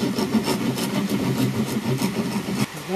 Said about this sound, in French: je casse cloison après cloison pour continuer à percer mes parois dans le didgeridoo